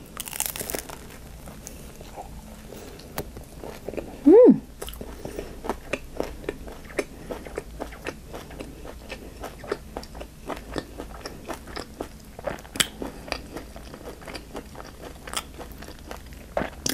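Crunchy Vietnamese egg rolls filled with ground pork, clear noodles, mushrooms and carrots are bitten and chewed close up, giving a loud crisp bite followed by a long run of crackly, irregular chewing crunches.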